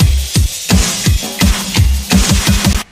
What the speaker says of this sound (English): I'm also doubling that rhythm on the drums like this.